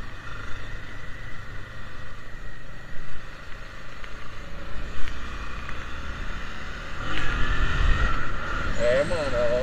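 A Honda Transalp 700 motorcycle being ridden, its engine a steady low rumble mixed with wind noise, with a rider talking over it.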